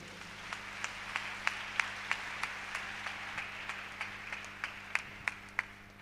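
Church congregation at a sermon clapping together in a steady rhythmic beat, evenly spaced claps repeating for several seconds over a hushed room.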